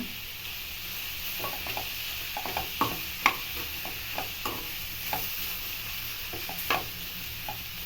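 Ridge gourd palya frying in a pan, a soft steady sizzle broken by scattered light scraping and stirring clicks, fairly quiet with no talking.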